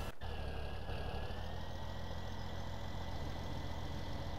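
A tractor engine in Farming Simulator 17 runs at a steady, low idle throughout, with a faint click right at the start and no talking over it.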